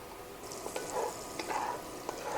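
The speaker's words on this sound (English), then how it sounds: "we like that sizzle sound" Steady hiss of butter and oil sizzling in a hot pan, with a few soft clinks and stirring sounds over the crackle, close and moderately loud.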